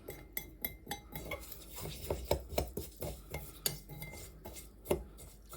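Carbon being mixed into terrarium soil inside a gin glass, a quiet run of irregular scraping taps and gritty clinks from a tool against the glass, close and soft with no talk.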